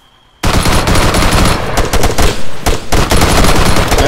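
Dense, sustained machine-gun fire from a convoy ambush in the video game Arma 3, loud and continuous for about four seconds after a brief silence, with no talk over it.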